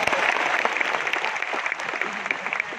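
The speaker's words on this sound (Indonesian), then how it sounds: "aplaus buat Anda Bapak Ibu." Seminar audience clapping, a dense, steady burst of applause from a crowd filling the room for a few seconds.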